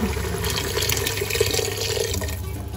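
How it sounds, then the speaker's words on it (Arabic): Water poured into a cooking dish of simmering food, a continuous close splashing, gurgling stream with faint sizzling underneath and no talk. "لهنا باش نزيد نمرقها شويه بالماء."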